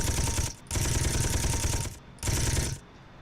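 Loud, sustained automatic turret gunfire in Space Engineers, rattling in two long bursts with a short gap between them and a brief pause before the second, close and dominant with no talk.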